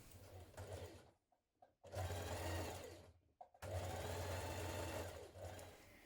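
A sewing machine runs in three steady bursts separated by brief pauses, edge stitching the folded-under neckline of a dress; the motor hum is close and even, with no talking.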